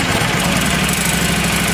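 A 10 horsepower Yanmar diesel clone engine runs steadily close by, a loud continuous low rumbling idle with rapid pulsing and no voices.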